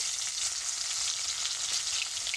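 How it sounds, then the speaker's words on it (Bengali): Chopped onion fries in hot oil in a kadai for a rui fish curry, giving a steady, close, bright sizzle that crackles evenly throughout with no voices. "পেঁয়াজটা একসাথে ভালো করে ভাজতে হবে"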